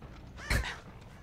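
A raven in a horror survival game lets out a single short, harsh caw, close and fairly clear against a quiet low background hum.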